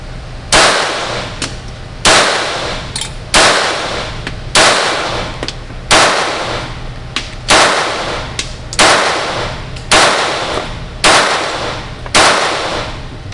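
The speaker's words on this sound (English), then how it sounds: "We're going to try 10 rounds of Federal Auto Match." A Stoeger Luger .22LR pistol fires ten Federal Auto Match rounds at a shooting range, sharp loud cracks spaced roughly a second or so apart in a steady rhythm, with no talking.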